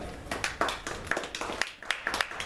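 Scattered hand claps, a few people clapping unevenly for a couple of seconds, fairly close with some background chatter.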